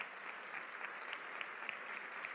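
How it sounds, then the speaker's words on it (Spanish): A church congregation claps steadily in a dense, sustained round of applause, fairly even in loudness from start to finish. "Demos un fuerte aplauso a Dios por esto"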